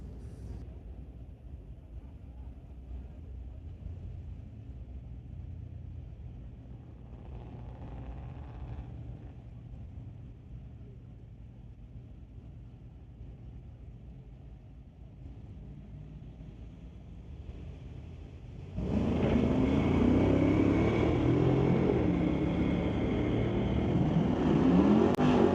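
Two drag cars, a 1965 Chevy and a 1971 Nova with a 406, race side by side on a street legal drag strip, a distant rumble suddenly swelling into a loud, sustained roar of engines at full throttle.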